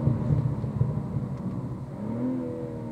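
BMW M340i engine accelerating at full throttle, a deep steady drone that rises in pitch as the car pulls, heard from inside the cabin at moderate level.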